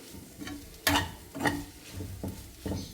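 A spoon stirs sweet corn and paneer paratha filling in a pan, giving soft, intermittent scrapes and light clatters spaced about half a second apart, close and fairly quiet.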